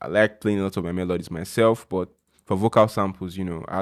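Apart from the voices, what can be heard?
None of the usual background noises is heard.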